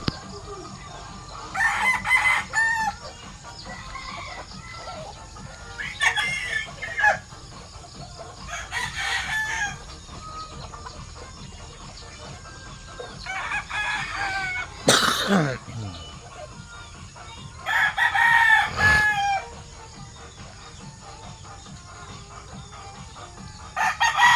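Roosters crow repeatedly at a distance while hens cluck now and then, over steady outdoor background noise, with occasional sharp knocks.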